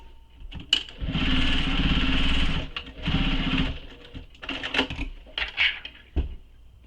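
A sewing machine runs in loud sustained bursts, stitching over the key ring on a handmade leather satchel, pausing between runs with a few clicks and handling knocks near the end.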